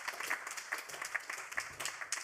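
An audience applauds steadily, a dense patter of many hands clapping at a moderate distance.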